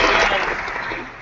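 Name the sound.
delayed applause from online meeting participants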